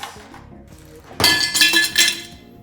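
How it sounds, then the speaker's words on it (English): Ice cubes tumbling into a glass for a Bloody Mary, a sudden burst of bright clinks and rattles that settles after a couple of seconds, with quiet room noise before it. "start with some ice"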